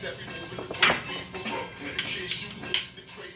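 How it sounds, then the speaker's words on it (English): Work to remove the oil pan from a Datsun engine makes scattered metallic clanks and clinks of tools and parts, close by, with a few sharper knocks against a quiet background. "There we go, now we're going to remove the oil pan."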